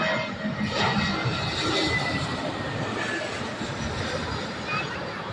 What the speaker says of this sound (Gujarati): તમે જોઈ રહ્યા છો વિમાન પણ એકદમ નજીક લેન્ડિંગ કરવા જઈ રહ્યું છે.